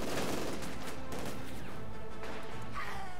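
Enemy infantry open fire in the World War II strategy game Company of Heroes 2, bursts of rifle and machine-gun fire crackling with sharp impacts over a couple of seconds, fairly close and uninterrupted by talk.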